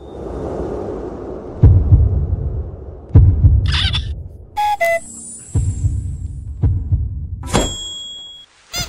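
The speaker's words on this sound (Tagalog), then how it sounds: "Ang bilis ng tibok ng puso ko." A heartbeat sound effect thumps in low, heavy pulses spaced a second or so apart, loud and close, interrupted by high whistling and chirping effects.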